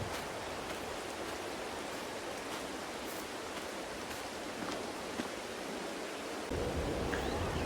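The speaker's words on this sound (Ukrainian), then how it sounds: "Такий дощ." Steady rain pours down in a continuous hiss, dense and even throughout, with a slight rise in intensity near the end, in the farming game Farming Simulator 22.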